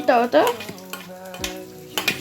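Garlic, green chilli and ginger frying in hot oil, a soft sizzle with stirring scrapes in a pan, heard under a voice talking.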